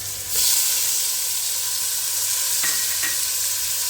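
Onions, tomatoes and garlic fry in a pot for masala daal, giving a steady close sizzle with a couple of brief stirring clicks and no talk.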